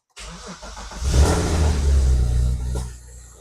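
A car engine cranks briefly, catches and revs up on its first start, a loud close rumble that rises, holds for a couple of seconds, then settles back down.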